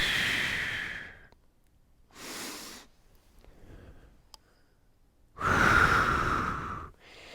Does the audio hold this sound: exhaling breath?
yes